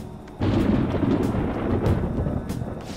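Deep, sustained video game thunder in Persona 5 rumbles in suddenly and rolls on steadily, loud and close, with faint crackles on top.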